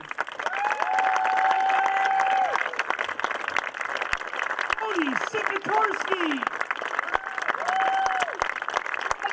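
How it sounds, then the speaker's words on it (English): A crowd claps and cheers at a senior all-star basketball game while an announcer introduces players over the PA, the applause a steady, reverberant backdrop beneath the amplified voice and a sustained whistle-like tone. "Everyone, a big round of applause for the Class B New York State champion."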